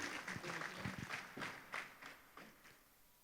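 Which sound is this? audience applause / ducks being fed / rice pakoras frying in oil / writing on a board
audience applause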